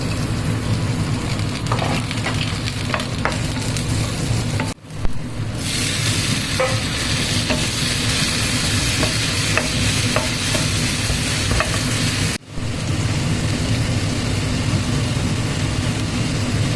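Ridge gourd and onion fry in a little oil in a home kitchen pan. A loud, constant sizzle runs throughout with occasional stirring clicks and two brief breaks.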